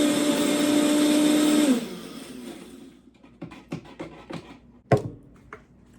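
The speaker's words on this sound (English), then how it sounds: "now we're gonna add in our chocolate mixture and just give it a little pulse" A Vitamix blender pulses a chocolate mixture into a mint chip ice cream base made with sweet potatoes, kale, mango and azuki beans, giving one loud, steady motor whir that stops sharply, followed by light clatters and knocks.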